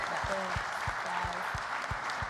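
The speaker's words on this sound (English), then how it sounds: "You guys applaud it." An audience at a conversation event with young Baltimore leaders claps steadily, the applause sitting under a voice that speaks over it throughout.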